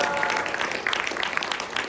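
An audience at a comedy show applauds the comedians, a dense, close burst of clapping that stays loud and even for its short length.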